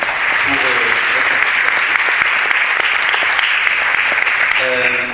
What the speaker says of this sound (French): Je peux vous applaudir hein